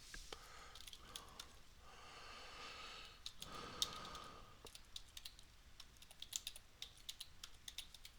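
Quiet, close typing on a computer keyboard, irregular bursts of light key clicks with short pauses and faint breathing in between, no talk.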